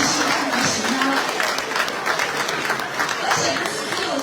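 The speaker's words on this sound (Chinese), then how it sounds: "有信心要鼓掌啊！" An audience at a farewell dinner party applauds in a sustained, dense burst of clapping that carries through the whole stretch, filling the banquet hall.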